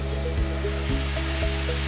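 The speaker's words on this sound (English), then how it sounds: "Give that a quick stir." Beef taco filling seasoned with salt is stirred in a hot pan, giving a steady loud sizzle with a few dull scraping knocks from the spoon.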